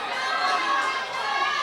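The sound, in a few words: boxing crowd cheering and coming to life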